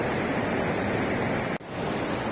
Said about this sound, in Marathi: इथे प्रत्येक ठिकाणी प्रत्येक कोपऱ्यामध्ये हा असा वाहणारा झरा हे असं पाणी